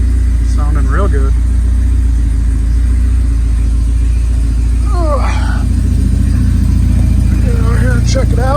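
A 1986 Porsche 944 Turbo engine runs loud and close with a steady low rumble throughout, while people talk over it.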